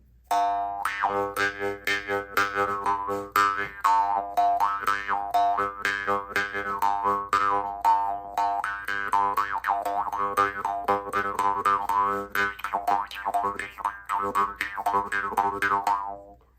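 A Mongolian jaw harp twangs continuously in a quick rhythmic pattern, its buzzing, wobbling tone bending up and down, played close and alone.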